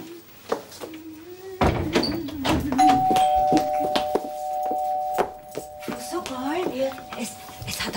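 A doorbell rings at a home door during a German family comedy scene, a sustained bell tone lasting several seconds at moderate loudness beneath ongoing talk and household clatter.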